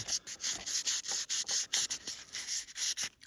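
Rhythmic back-and-forth rubbing strokes as filler is carefully sanded on a rare Mobil oil pin, close and bright, about a dozen quick passes in steady succession.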